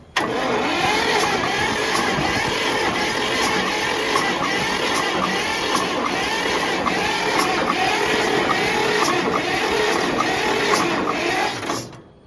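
An old car engine, unused for over 40 years, cranks and catches, then runs and revs roughly and loudly for about twelve seconds before cutting off abruptly.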